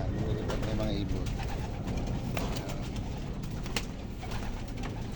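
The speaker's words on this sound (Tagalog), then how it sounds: "Ayan na, lumilipad na yung mga ibon." Racing pigeons take off together before a race, a continuous wash of bird noise and soft cooing with scattered flutters, while someone talks over it.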